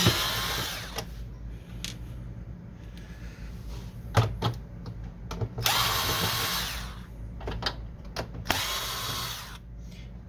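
A power drill removes screws from an HP Officejet 4650 printer, with several short whirring bursts separated by clicks and plastic handling noises, all close and with no talk.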